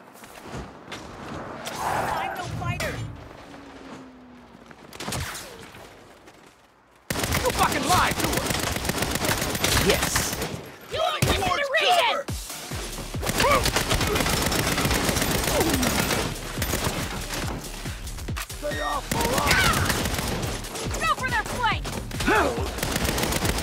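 Gunfire in the video game Saints Row, a long stretch of dense rapid shooting and impacts after a quieter opening with brief voices, loud and continuous with short pauses in between.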